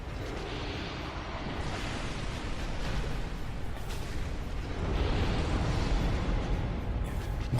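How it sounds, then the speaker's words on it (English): A boss's fiery explosion attack in Dark Souls: a sustained roaring blast that rumbles continuously, swelling louder toward the end, with no talking. "That is her explosion attack."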